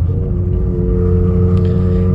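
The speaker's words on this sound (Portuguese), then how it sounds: "Vamos ver se eu dar um pé fundo de terceira aqui, se ele vai." Volkswagen up! TSI with a suspected fault, its engine droning loud and steady from inside the car under hard throttle in a low gear, a constant low rumble with a sustained tonal hum.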